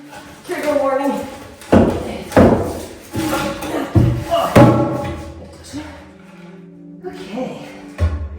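Heavy sledgehammer blows land as a series of loud, close thuds and bangs, several struck in quick succession with short pauses, while a person talks over and between the impacts.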